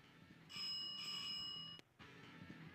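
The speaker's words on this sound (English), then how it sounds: "we're going to ring the doorbell." A doorbell rings in the video game L'affaire Morlov, a bright sustained chime lasting over a second before cutting off abruptly, set against a soft low background.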